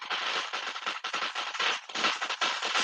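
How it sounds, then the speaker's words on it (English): Neighborhood fireworks on New Year's Eve crackle in dense, rapid bursts like firecracker strings, loud and continuous throughout with brief dips between volleys. "Fireworks are starting up in my neighborhood already."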